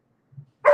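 A pet dog gives a short, soft low grunt and then one sharp, fairly close bark at the end, with no talking.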